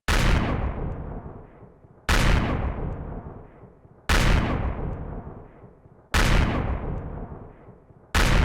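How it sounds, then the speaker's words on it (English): Artillery cannons in the game Empyrion Galactic Survival (Reforged Eden 2) fire in a slow, regular series: five loud, booming shots about two seconds apart, each decaying into a long rumbling tail, with no speech. "Let's see how much quicker they fire compared to the Reforged Eden 1 artillery cannons"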